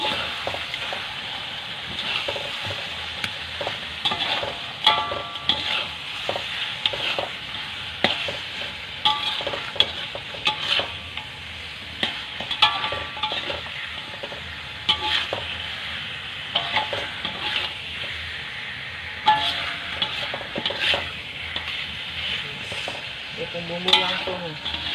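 Pieces of fish are added to a turmeric-yellow spice paste for Maluku ikan kuah kuning and stirred in a pan, giving a soft continuous sizzle broken by irregular scraping and stirring clinks up close.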